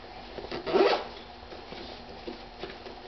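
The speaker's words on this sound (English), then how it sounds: "Just zip it up out of the way." A zipper on the front pouch of a budget emergency get-home bag is pulled closed in one quick close rasp, followed by softer handling rustles.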